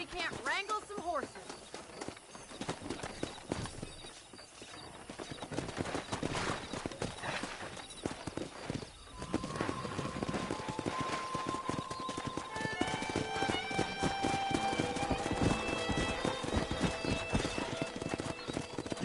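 Hooves clip-clopping and galloping with horses whinnying in Red Dead Redemption, busy and layered, with voices talking at times and musical tones rising later.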